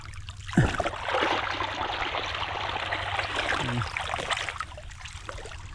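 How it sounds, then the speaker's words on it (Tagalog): Water pours steadily onto calamansi plants as they are irrigated, a continuous close rushing trickle with a brief splash near the start. "Ito na, tubig."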